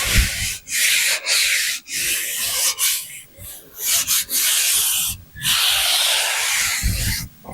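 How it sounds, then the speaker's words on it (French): A hand rubs and strokes over bare sheet-metal body panels of a wrecked Subaru being rebuilt as a rally car, giving a close, steady broadband rasping hiss in long strokes separated by short pauses. "il faut caresser la tôle sans forcément regarder"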